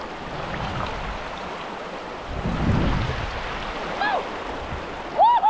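Flowing river ambience with steady broadband water rush and some wind buffeting, a louder surge in the middle, and a few faint bird chirps near the end.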